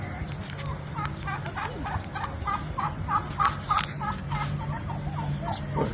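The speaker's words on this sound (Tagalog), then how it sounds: "Yan, native na manok." Native chicken clucking in a steady run of short repeated calls, close and fairly loud over a low outdoor background hum.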